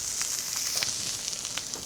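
Steak sears in a hot pan, giving a soft, continuous hissing sizzle with faint pops, close by and without talk.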